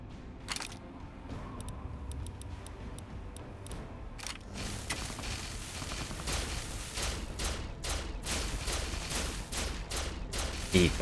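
Gunfire in Fallout 3 and New Vegas during a fight against the Enclave: rapid, repeated sharp shots that grow denser and louder toward the end, over a rumbling game backdrop.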